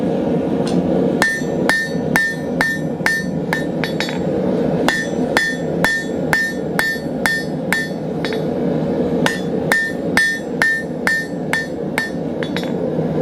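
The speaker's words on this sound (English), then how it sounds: "I'm going to focus on these, hammering on these narrower ones" A hand hammer drawing a round taper on heated metal rings out in steady, evenly spaced ringing blows, close and loud, in two runs separated by a short pause, with no talking.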